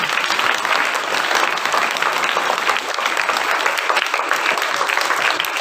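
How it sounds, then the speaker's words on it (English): An audience at a school English choral recitation contest for grades five to seven gives sustained, even applause, a dense patter of clapping that runs for several seconds. "Let's give a thunderous applause to all our contestants."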